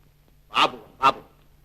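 A dog gives two short, loud barks about half a second apart, close by, with quiet around them.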